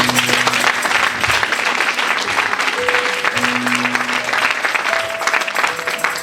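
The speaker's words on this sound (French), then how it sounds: "On acclame pour Jésus" A church congregation bursts into loud, sustained applause during a sermon, many hands clapping close and dense throughout, with a few faint voices and tones mixed in.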